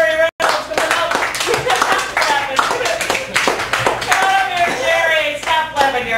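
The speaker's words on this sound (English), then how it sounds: "Give it up for Jerry Reynolds." Audience applause at a poetry open mic in a Chicago café, a dense, sustained burst of clapping from a room of listeners, with voices calling out over it and a brief drop near the start.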